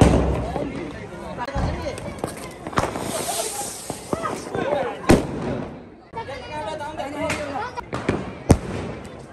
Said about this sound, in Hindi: लाते आतिशबाजी चलाओ भाई भैया।